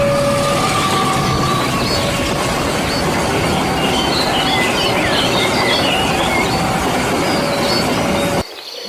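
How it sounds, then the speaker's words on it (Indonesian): A toy train runs steadily along its track for most of the clip, giving a continuous rattling rumble with faint squealing tones on top before cutting off abruptly near the end. "Ini ada kereta api."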